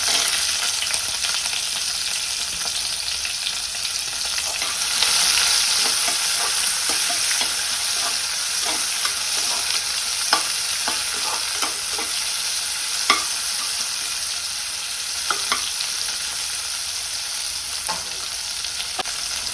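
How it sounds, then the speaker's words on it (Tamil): Onions fry in a pan for dum biryani, with a steady, loud, broadband sizzle and the occasional scrape of stirring, and no voices. "ஆனியன்ஸ் ஆட் பண்ணிக்கலாம்."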